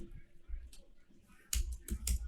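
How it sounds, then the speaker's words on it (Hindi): Computer keys are typed during a JavaScript coding lesson, with soft scattered clicks followed by a few sharper, louder keystrokes near the end, close to the microphone. "देख रहे हो कीबोर्ड कितनी हरकत कर रहा है।"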